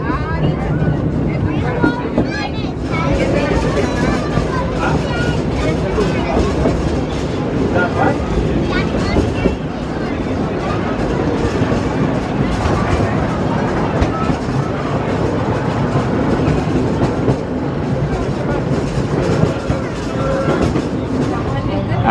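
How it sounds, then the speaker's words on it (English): The PortAventura Railroad train pulls into Far West station at the park, giving a continuous loud rumble and clatter of the rolling train throughout, with a voice talking over it. "they've got three stations on the PortAventura Railroad"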